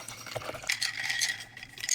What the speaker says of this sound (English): She's mixing tea.